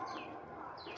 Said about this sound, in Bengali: পাখির ডাকের সঙ্গে এখানে ঝিঁঝির ডাকও শুনতে পাই।